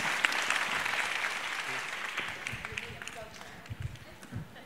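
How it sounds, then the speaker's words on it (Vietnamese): A studio audience at a Vietnamese TV show claps steadily at first, the applause thinning out as low rumbling thumps and a voice come through toward the end. "Dạ quý vị vỗ tay chính thức đi"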